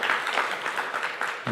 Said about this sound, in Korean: 다시 한번 환영의 박수하겠습니다.